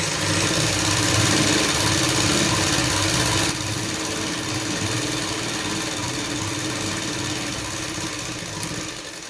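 Sewing machine running steadily while stitching the hem of a petticoat, a continuous loud motor whir and needle drone that drops slightly in level partway through and keeps going to the end.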